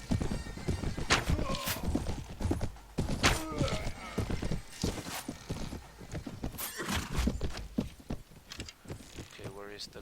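Horse hooves clip-clopping in a Mount & Blade battle, a steady busy clatter of hoofbeats with thuds and an occasional whinny, loud and close throughout amid other combat noise.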